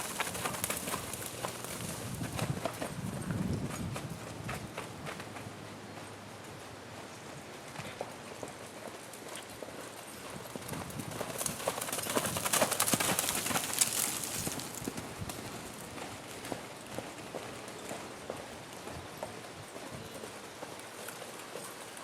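A horse cantering in a Western dressage arena gives a steady, rhythmic clip-clop of hooves throughout, moderately close, with birds calling faintly in the background.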